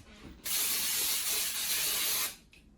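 A spray bottle misting the inside of a proofing container for cinnamon rolls, one steady hissing burst of about two seconds, close and fairly loud, with quiet room noise before and after.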